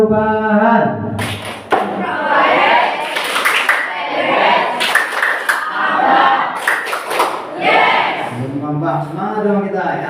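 A group claps out a patterned rhythm led by a speaker, mixing bursts of sharp claps with spoken instructions and chanted words, the clapping loud and close, sometimes overlapping the voices.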